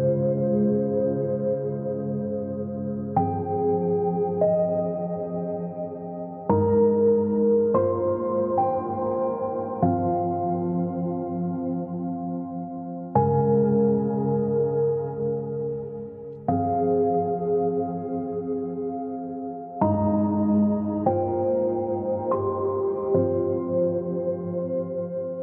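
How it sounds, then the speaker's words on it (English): Piano chords with a huge, spacious reverb move through a slow progression in an ambient future garage track, each chord ringing out sustained and full, changing about every three seconds with no voices. "So I started things off with this chord progression,"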